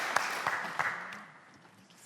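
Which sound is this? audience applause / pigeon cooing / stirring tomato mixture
audience applause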